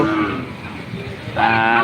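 A cow at a rain-soaked, muddy cattle market lets out a loud, close, drawn-out moo that swells into a stronger second push near the end, with no talk over it.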